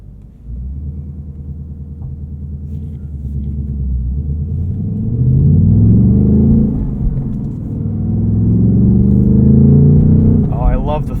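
A 2024 Ford Mustang Dark Horse with a Tremec six-speed manual, running in track mode, rumbles deeply and revs up twice in long swelling pulls from inside the cabin, with a voice briefly audible near the end.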